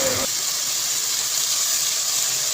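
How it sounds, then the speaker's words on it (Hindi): Onions and chopped capsicum fry in ghee for Chicken Manchurian, a steady bright hiss and sizzle that holds evenly throughout after a brief opening sound. "प्याज और जो कटी हुई शिमला मिर्चें हैं उसे भी हम 2 मिनट घी में फ्राई करेंगे"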